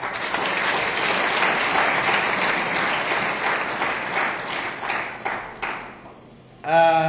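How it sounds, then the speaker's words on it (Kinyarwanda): A church congregation claps for God during a sermon, a dense, loud wash of applause sustained for several seconds before fading, followed by a brief tonal ring or voice at the end. "Nimukomere Imana amashyi."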